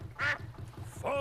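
Two short cartoon duck quacks from the Peppa Pig canal boat episode, one early and one near the end, close and clear over a soft low background hum.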